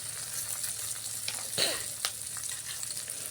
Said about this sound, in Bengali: পেঁয়াজ রসুন বাটা দিয়ে দিলাম। এটা একটু ভালো করে ভেজে নেব